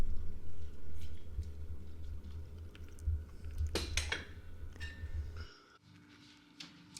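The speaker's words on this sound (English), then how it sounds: "And we'll give it a stir." Chickpea masala curry gets a stir in a pot: soft scraping and a couple of clinks of a spoon against the pot over a low steady hum from the stove, then the sound drops away near the end.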